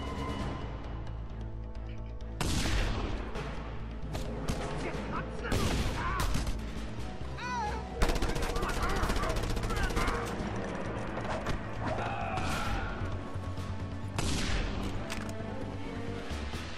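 Bursts of gunfire and explosive booms ring out in the open-world action game Just Cause 2, loud and dense with rapid fusillades and crashes layered over game music and ambience.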